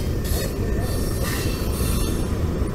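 A freight train hauling intermodal containers rolls past close by, its wheels squealing steadily over a loud rumbling roar of rail cars, continuous throughout.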